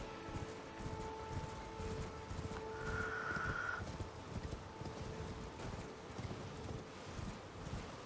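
A horse galloping in Elden Ring, with quiet, steady rhythmic hoofbeats running the whole time under the game's background sound and a brief tonal chime partway through.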